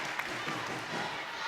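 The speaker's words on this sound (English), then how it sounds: "the crowd really getting behind Thunder now" Netball spectators roar and clap for Manchester Thunder in a steady wash of crowd noise with scattered shouts, fairly loud throughout.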